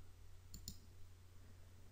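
A single quiet computer mouse click while working in Paint, one brief sharp tick over a low background hum.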